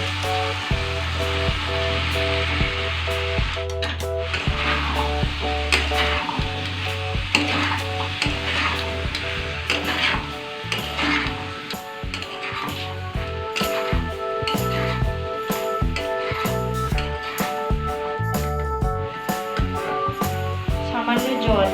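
Chickpeas fry for chicken chana masala in a pan, a loud close sizzle with frequent stirring clinks and scrapes, while music with a steady beat plays underneath.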